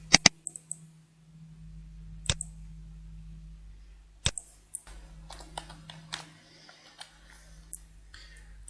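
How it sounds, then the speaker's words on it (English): A computer mouse clicked twice in quick succession during a remote desktop session, the sharp clicks close and distinct against a quiet low hum, with a few more scattered faint clicks afterward. "Double click."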